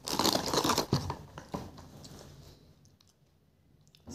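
A plastic wrapper crinkling and crackling up close in a dense, busy burst of rustles and clicks over the first couple of seconds, then fading to sparse faint ticks and near quiet, no talking.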